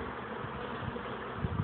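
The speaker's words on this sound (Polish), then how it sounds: "To jest pszczoła" A bee buzzes close by in a steady, droning hum that swells slightly louder near the end.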